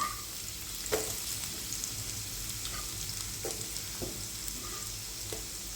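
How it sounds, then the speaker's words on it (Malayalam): Chopped onion and curry leaves fry in coconut oil for egg thoran, a soft, steady sizzle with a few faint clicks of the stirring utensil, quiet and close, with no voices. "അതിലേക്ക് നമ്മൾ അരിഞ്ഞു വെച്ചിരിക്കുന്ന സവോളയും കറിവേപ്പിലയും ഇട്ട് നന്നായി ഇളക്കി കൊടുക്കുക"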